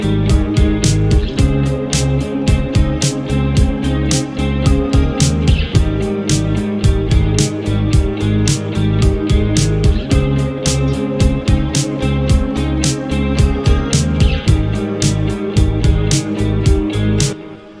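Full-band song mix in its final chorus, layered with an added distorted electric guitar part, dense and loud with a steady driving beat and sharp rhythmic hits throughout, no talking.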